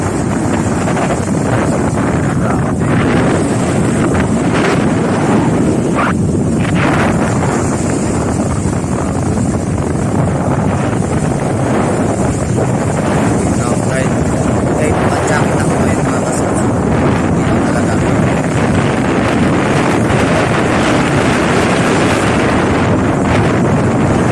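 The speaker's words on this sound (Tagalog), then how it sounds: "Lakas talaga ng alon." Strong wind and heavy waves pound the shore during Typhoon Auring under Signal No. 1, a loud, steady roar with constant wind buffeting of the microphone throughout.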